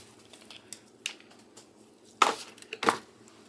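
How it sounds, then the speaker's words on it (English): Aluminium foil crinkled and crushed by hand to cover a roaster of caramelizing onions, two sharp crackling bursts close by after quieter rustling. "I'm going to have to cover that with foil"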